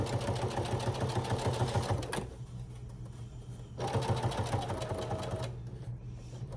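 A domestic sewing machine stitching fabric for a summer tote bag runs in two close, rapid bursts of rhythmic needle clatter separated by a brief quieter pause, then trails off.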